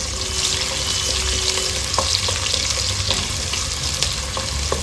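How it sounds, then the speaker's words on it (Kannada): Onions frying in hot ghee and oil after mustard seeds have popped, a loud continuous sizzle with scattered crackles and occasional spoon clinks throughout. "ಸಾಸಿವೆ ಸಿಡಿದ ಮೇಲೆ ಈರುಳ್ಳಿ ಹಾಕೊಂಡು ಚೆನ್ನಾಗಿ ಫ್ರೈ ಮಾಡ್ಕೊಳ್ಬೇಕು ಈರುಳ್ಳಿನ."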